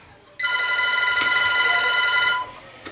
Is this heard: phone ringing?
yes